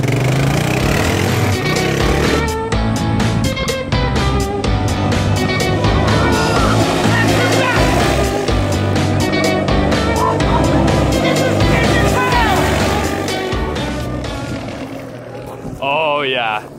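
A Honda Big Wheel three-wheeler engine runs loud and close, buzzing and revving continuously with rapid throttle surges, then fading slightly toward the end while people talk and shout over it.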